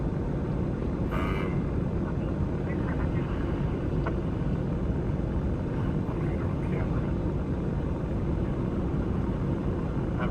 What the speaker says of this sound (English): That helicopter is a ways up there.